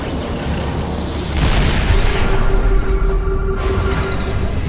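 Siege tank cannon fire and explosions in StarCraft 2, a loud, dense rumble of booming blasts that stacks up continuously, growing heavier after the first second.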